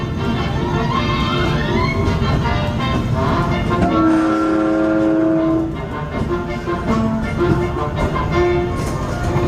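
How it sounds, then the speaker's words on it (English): Disneyland Railroad train rolling to a halt at night, loud rumbling wheels and squealing brake tones easing down, with people's voices murmuring in the background. "remain seated until the train comes to a full and complete stop"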